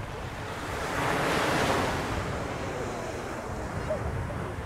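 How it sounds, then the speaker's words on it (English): Ocean surf rolling onto a beach, a broad continuous wash of breaking waves that swells and recedes, with wind buffeting the microphone and no clear speech. "ang tunog ng dagat ay napakaganda."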